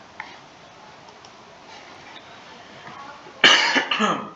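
A single sharp, close cough bursts out after several seconds of quiet room tone with faint ticking.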